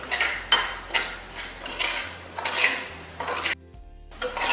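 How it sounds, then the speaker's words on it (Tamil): Semolina (rava) dry-roasting in a pan for Tamil upma, stirred with a metal utensil; repeated scraping and rubbing strokes in a steady rhythm, close and fairly loud, with a brief quiet gap near the end and no talking. "கொஞ்சம் பொன்னிறம் ஆறது வரை வறுக்கணும்."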